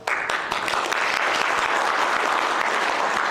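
An audience at a commemorative gathering clapping loudly and continuously, a dense wash of applause filling the room from start to finish with no voices above it.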